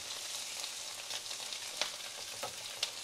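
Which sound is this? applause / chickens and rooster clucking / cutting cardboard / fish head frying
fish head frying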